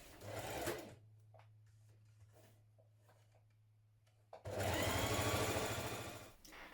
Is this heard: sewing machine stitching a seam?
yes